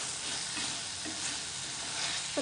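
Beans, carrots and green peas are stirred and fried in a pan for veg Schezwan fried rice, a steady close sizzle with soft scraping under it and no voices.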